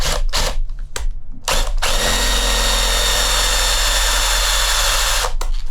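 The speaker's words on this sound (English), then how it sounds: "Now for drilling, I'm going to start with a large drill bit and just go straight into where the hole is already there." A power drill with a large bit bores into soft plastic of an action figure, short whirring starts followed by a loud sustained grinding run, then stopping with a brief burst at the end.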